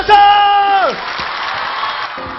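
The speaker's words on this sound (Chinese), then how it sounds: "掌声！" Studio audience applause on a Chinese TV variety show, a burst of clapping and crowd noise that follows a loud voice and holds steady to the end.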